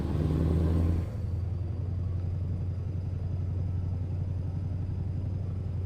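A Scania 730 V8 truck engine in Euro Truck Simulator rumbles at a steady low idle after a brief louder burst at the start, a constant deep drone heard alone.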